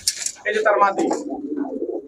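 A pigeon coos at a pigeon shop, a couple of rolling, throaty calls close by, while someone speaks over and between them.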